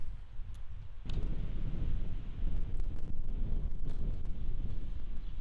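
Strong, gusting headwind buffets an open golf hole at a New Zealand North Island championship, a steady broadband roar that surges louder after the first second and keeps pulsing throughout, with no talking.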